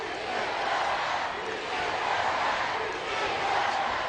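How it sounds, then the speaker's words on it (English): Capacity wrestling crowd in Laredo at a WWE SmackDown event: a dense, continuous roar of many voices chanting, loud and sustained with no gaps. "This capacity crowd in Laredo chanting "Si se puede.""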